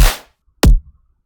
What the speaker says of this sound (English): So drums for that sound like this.